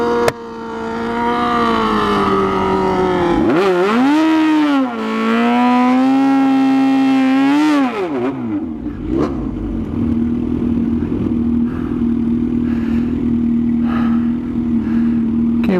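A Kawasaki ZH2 motorcycle on a drag strip test run, engine revving hard at the line with rising and falling pitch, then a loud launch and a sustained high-pitched wail as it pulls away.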